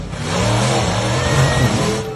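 A monster truck engine roars at close range, a loud and steady revving growl that runs for about two seconds with no speech.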